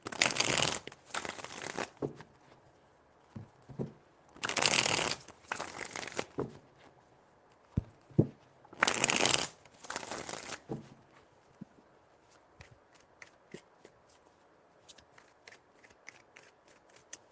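Tarot cards being shuffled in three distinct bursts of riffling and flicking, close and crisp, separated by quieter handling sounds and soft taps, with no talk.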